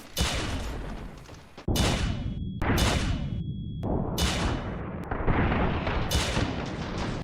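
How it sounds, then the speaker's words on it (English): Big booming explosions erupt one after another, each a sudden loud blast with a rumbling tail, separated by brief silent cuts. "there haven't been enough explosions for the past few scenes"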